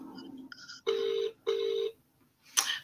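A telephone rings during a video call: a short soft tone, then two long electronic rings with a pause between them, followed by a brief sharp click.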